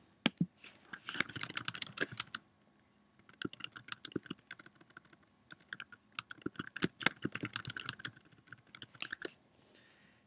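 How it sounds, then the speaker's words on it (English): Computer keyboard typing in bursts of rapid clicks, with short pauses between runs, close and fairly quiet, while entering text for a WordPress page. "And you can just type something there."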